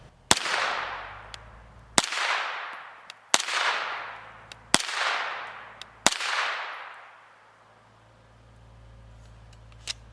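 Five 9mm 115-grain FMJ rounds fired from a PSA AR-V9 with a 16-inch barrel, each a sharp loud crack with a long decaying tail, spaced about one to two seconds apart, followed by a quieter stretch and a faint final click.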